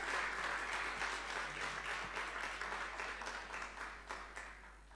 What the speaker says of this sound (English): I would love for all of us to give a big rousing clap for ma'am